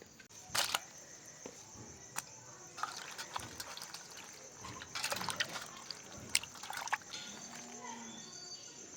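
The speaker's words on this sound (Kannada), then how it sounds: "ಟೊಮೊಟೊ ಹಾಗೆ ಹಸಿಮೆಣ್ಸಿಕಾಯನ್ನ ತೊಳ್ಕೊಳ್ಳೋಣ" Roasted tomatoes and green chillies are rinsed and handled in water for a spicy chutney, giving scattered wet splashes and clicky knocks at a moderate, fairly quiet level with no talking.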